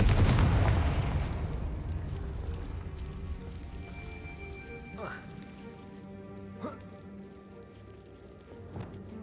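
Confringo fire spell from Hogwarts Legacy goes off with a loud opening burst that trails into crackling debris and scattered magical chimes and whooshes fading over several seconds.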